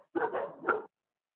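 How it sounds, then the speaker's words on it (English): A dog gives a short burst of two or three close, loud barks that run together, followed by silence. "so I've got crazy dogs."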